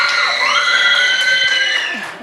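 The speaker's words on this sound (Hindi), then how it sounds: "तालियां" A studio audience on a quiz show, cheering and shouting with high excited voices that swell and then fade over a couple of seconds.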